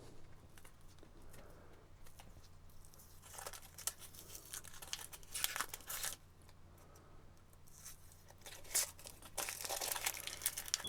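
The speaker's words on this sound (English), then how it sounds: "peel off the skin" Papery onion skin being peeled away by hand, with quiet, close crinkling and crackling in irregular bursts over a faint steady hum.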